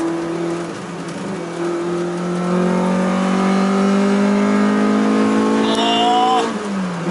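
A Honda CRX engine climbs toward high revs in second gear, a loud rising drone that keeps pitching upward for several seconds before dropping off sharply near the end.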